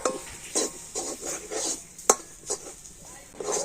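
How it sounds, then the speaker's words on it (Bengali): Spiced potato filling stirred in a pan, a series of scraping and rubbing strokes with a sharp metallic clink partway through, close and fairly quiet. "আমি সমস্ত মশলা দিয়ে ভালো করে নাড়াচাড়া করে নেব"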